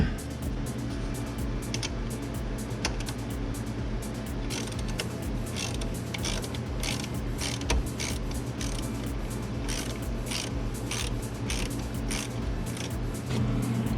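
A ratchet clicks rapidly and repeatedly while loosening the positive battery terminal nut on a 2016-2024 Camaro, close and steady over a low background hum.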